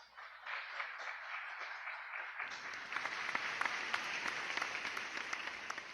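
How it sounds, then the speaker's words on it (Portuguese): A church congregation applauds at the close of a sermon, a muted start giving way after a couple of seconds to fuller, steady clapping that fills the room. "Diga a glória a Deus e vamos aplaudir a Jesus."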